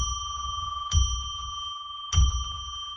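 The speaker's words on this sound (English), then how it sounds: "Let's ring a bell 3 times to declare sacred space." A small bell struck twice in a quiet room, each ring sharp and clear with a long sustained shimmering tone that carries between strikes, close and moderately loud.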